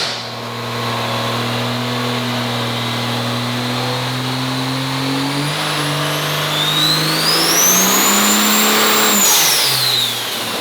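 A triple-turbo Quad Cab truck engine with oversized injectors roars steadily under load on a dyno, its pitch climbing through the pull with a rising turbo whistle, then dropping off sharply as the throttle closes.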